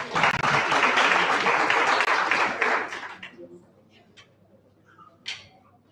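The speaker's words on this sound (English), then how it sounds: "A round of applause for us." Audience applause at an ABLE2VOTE disability-inclusion event, a dense burst of clapping for about three seconds that then fades out, followed by scattered faint claps and quiet room noise.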